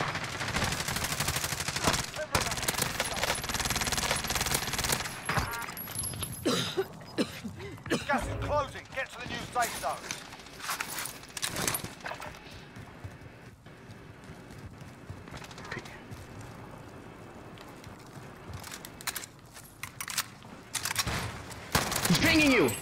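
Gunfire in a Call of Duty Warzone / Black Ops Cold War match, bursts of automatic shots and scattered single reports amid game effects, with players talking over it.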